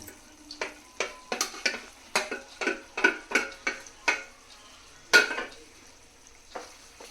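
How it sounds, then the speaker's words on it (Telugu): Grated eggs are stirred into a frying egg keema curry, giving a steady run of close, crisp scraping and clinking strokes from a spoon against the pan over a faint sizzle, with no talking. "ఇప్పుడు క్యారెట్లా సన్నగా తరుముకుని ఎగ్స్ని అందులో వేసేద్దాం"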